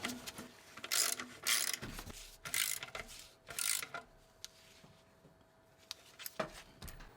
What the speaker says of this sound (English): Now install the lower bolt and tighten it down.